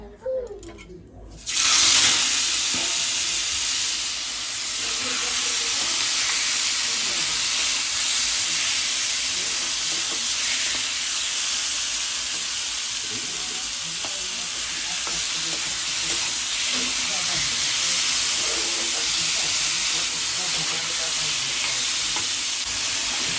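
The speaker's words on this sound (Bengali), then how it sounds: "তেলটা গরম হয়ে গেছে এবার এখানে ম্যারিনেট করা চিকেনটা দিয়ে দেবো" Marinated chicken sizzles and fries in hot mustard oil, a loud steady crackle that starts abruptly after a brief quiet moment and continues unbroken throughout with faint stirring.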